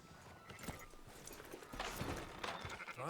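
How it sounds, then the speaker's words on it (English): Sheep on a farm in the video game Red Dead Redemption 2 bleat faintly in a low, busy background with hoof clatter and movement, brief calls rising near the middle and end. "Fine sheep."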